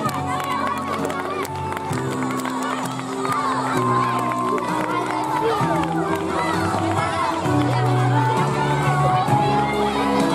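Children finishing a school march on Peace Day are met with cheering, clapping and a lively crowd of young voices, with shouts and chatter throughout and an adult talking over the noise.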